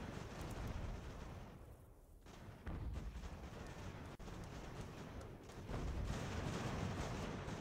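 Army volley fire in Ultimate General: American Revolution during a battle in the rain, a dense rolling roar of massed musket shots and booms, faint and continuous with swells and a brief lull.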